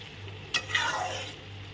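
Boiled dhenki greens stirred in a pan after the lid comes off, a brief scrape and clink over a faint steady hum, close by.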